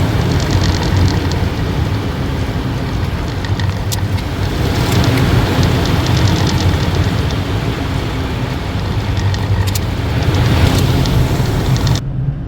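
A vent hood motor on a cold start after sitting off for days gives a steady, loud whirring drone with a rough, noisy texture and faint ticking, running continuously close by before cutting off abruptly at the end.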